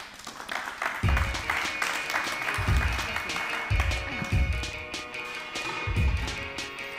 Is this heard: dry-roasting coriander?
no